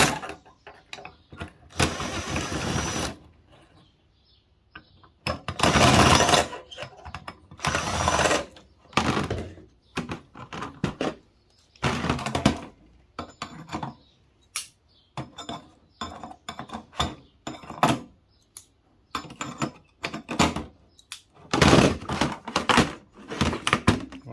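Screws being backed out of a scrap circuit board during a metal-recovery breakdown, heard as repeated loud bursts of driver whirring and mechanical grinding separated by short quiet gaps, close up with no talk.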